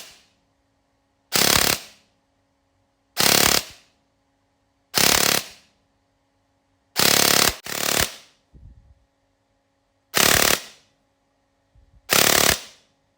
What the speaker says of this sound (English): trying to develop this to work efficiently with high rate of fire blasters